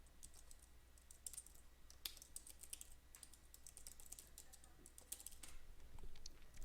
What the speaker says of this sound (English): let me key in my Twitter username and password.